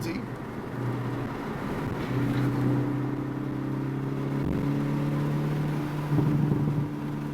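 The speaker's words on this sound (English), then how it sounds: "Love the pops and burbles." Hyundai Veloster N at a track cooling down, a steady engine drone with harmonic bands and small irregular crackles, sounding close and moderately loud with no talk over it.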